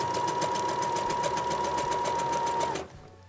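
A sewing machine runs steadily at speed, its rapid even stitching pulse close and loud while elastic is sewn under light tension, then it stops abruptly near the end.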